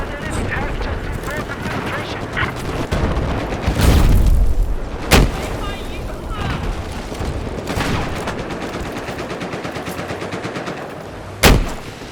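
Gunfire in the video game Battlefield 4 crackles in rapid bursts, with several loud, sharp blasts and booms standing out, while players talk excitedly over the shooting.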